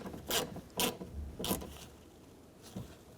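Window motor bolts being snugged down inside the front driver's side door of a 2004-08 Nissan Maxima: four short, close ratcheting rasps with brief pauses between them, the last one quieter.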